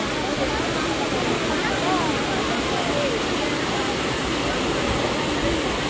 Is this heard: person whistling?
no